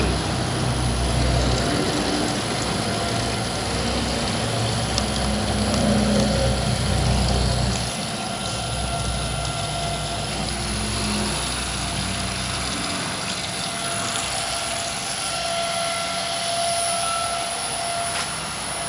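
A machine runs under load from a 3.5 kW pure sine inverter, a loud, steady broadband roar with a thin high whine, its low rumble dropping partway through, with no voices.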